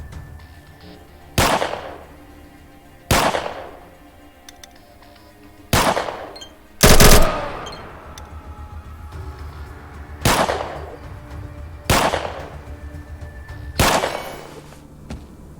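Aimed gunshots from pistols and submachine guns in the game ATOM RPG, seven loud single reports spaced roughly two seconds apart, each with a sharp crack and a short decaying tail, one heavier blast in the middle, no talking.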